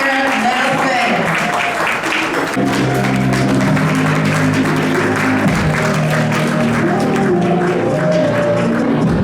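Applause from a large crowd fills an awards gala hall, a steady dense wash of clapping with cheering, and a low musical tone joins partway through.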